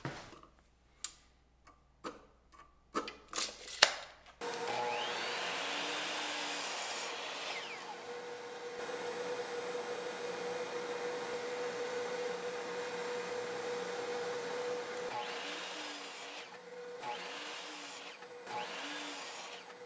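A saw cuts wood pieces for basement wall framing. A few sharp knocks come first, then a sustained rough cutting noise runs for about fifteen seconds at moderate, fairly quiet level.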